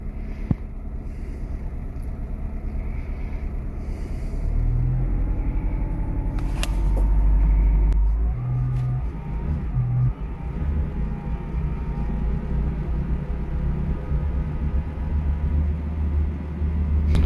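The 2006 Honda CR-V's K-series engine is revved to about 2000 rpm: a steady idle rumble swells into a louder, higher droning rev that holds and settles back into a sustained running engine, close by with no talking.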